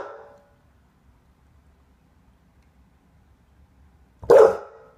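Dog gives a single loud, close bark near the end after a faint sound at the start and a long quiet stretch.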